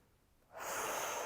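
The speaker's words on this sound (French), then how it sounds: "Prends quelques respirations profondes, par le nez, par la bouche" A single deep breath through the nose and mouth starts halfway in as a soft, airy rush after near silence, close and quiet, with no speech.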